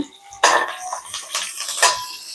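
Green chillies and curry leaves are stirred in hot oil in a pan, producing two or three bright metallic scrapes of a spoon against the pan, close and fairly loud, with short quiet gaps between them.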